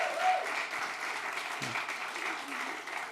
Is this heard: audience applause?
yes